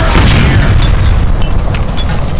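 Gas line exploding near a stove in the video game LA Noire, a loud, sustained rumbling boom that fills the whole clip with deep roaring energy and faint crackling on top.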